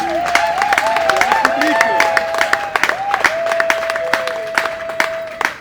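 Applause from an audience at a training ceremony in Kinshasa, Congo, with dense, steady clapping that lasts throughout while a voice speaks over it.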